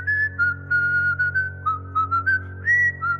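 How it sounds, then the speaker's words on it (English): A person whistles a lilting tune alone, clear and close, in a series of short melodic phrases over a low steady hum. "It was just a bit of whistling."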